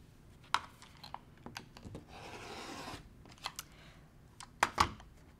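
A rotary cutter runs along a ruler through quilt fabric, making one short rasping slice amid soft clicks and taps of handling the ruler and cloth, close and quiet.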